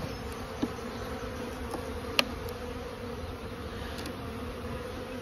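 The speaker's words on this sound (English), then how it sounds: "Chill out, little bees." Honey bees hum around a hive frame lifted during a smoky hive inspection, a steady faint buzz close by with a few brief clicks and knocks from handling the frame.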